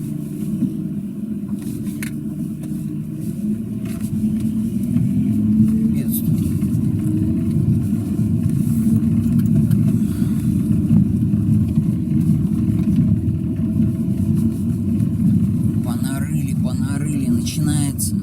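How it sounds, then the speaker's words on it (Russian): BMW E39 sedan on a test drive after its fuel injectors were cleaned, a steady low engine and road rumble from inside the cabin, continuous and moderately loud throughout with no talk. "Сейчас у меня тест-драйв."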